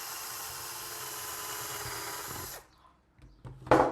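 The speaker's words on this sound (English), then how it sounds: "So the first thing we do is we drill a hole through the top" Drill running steadily as it bores through the wooden top of a homemade bird feeder, a continuous motor whine that stops abruptly, followed by brief clatter and handling noise.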